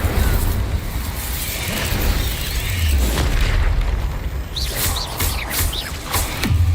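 Incendio fire spell blast in a Harry Potter video game, a loud rumbling boom with crackling bursts that swells and fades, and thin chirps and whistles coming in near the end.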